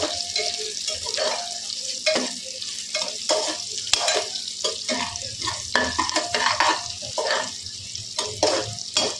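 Something sautés in ghee over a medium flame for a shahi matar pulao, with busy, close stirring and scraping over a bright sizzle and occasional clinks of a pot.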